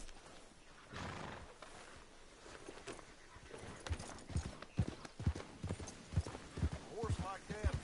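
Horses clip-clop at a steady walking pace in Red Dead Redemption 2 Online. The hooves are fairly close, a brief neigh comes through, and a voice talks over them.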